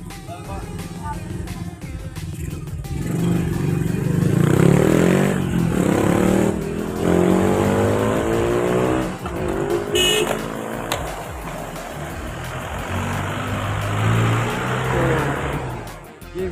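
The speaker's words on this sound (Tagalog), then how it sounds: "Nagpaguroy-guroy mas motor." A motorcycle rides around nearby, its engine rising and falling with revs and passing sweeps, mixed with outdoor street noise.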